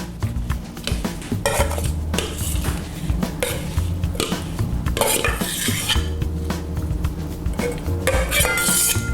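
Repeated scraping and clinking of a utensil scraping pie filling into a pie crust, busy and close, with short bursts of scraping through the whole stretch.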